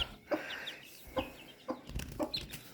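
Chickens and a rooster in a larger poultry enclosure, including a black bird with white mottling, give soft repeated clucks at a moderate distance over a faint background hiss.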